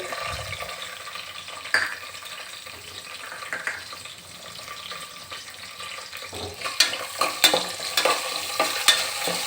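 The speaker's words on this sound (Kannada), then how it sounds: "ಈರುಳ್ಳಿ ಬ್ರೌನ್ ಕಲರ್ ಬರಬೇಕು, ಚೆನ್ನಾಗಿ ಫ್ರೈ ಆಗಬೇಕು." Onions fry with curry leaves and whole spices in a pan for veg biryani, giving a steady close sizzle with scraping stirs, and the clatter and crackle grow busier in the last few seconds.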